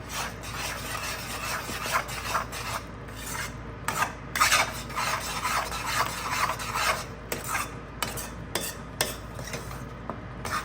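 Tamarind gravy for pulikachal is stirred in a heavy-bottomed pan with repeated rasping scrapes of the spoon against the base. The rough strokes come in an uneven rhythm over a faint background hiss.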